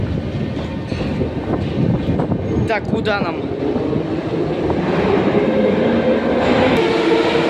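A metro train rumbles and clatters steadily nearby, with a brief metallic screech, as people talk over the noise.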